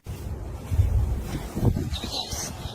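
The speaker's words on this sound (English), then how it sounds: "It's way too windy out there" Strong outdoor wind buffeting the microphone, a dense low rumble with gusting swells throughout, louder near the start and middle, with no clear voices over it.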